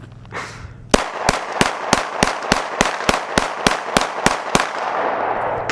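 A Glock pistol fires thirteen sharp, evenly spaced shots in steady rapid succession to empty its magazine, each crack loud and close, with a brief rustle just before the first shot.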